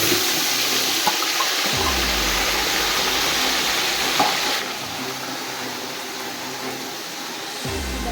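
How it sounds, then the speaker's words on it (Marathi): Cumin, ground spice paste and ginger-garlic paste fry in a hot pan, giving a dense continuous sizzle with a couple of low thumps as ingredients go in, close and fairly loud. "अगोदर जिरे घालायचे, नंतर आपण जे वाटण केलं आहे ते वाटण घालायचं, अद्रक लसूण पेस्ट"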